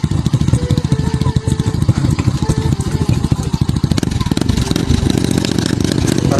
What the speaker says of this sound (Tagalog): Parang hindi kaya ng motor ko to ah.